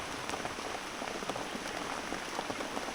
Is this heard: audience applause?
no